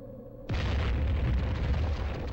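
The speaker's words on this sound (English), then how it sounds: "That's a grenade." A grenade in the Warhammer 40K Fire Warrior game goes off with a sudden loud boom, followed by a sustained roaring, crackling blast that fills the rest of the moment.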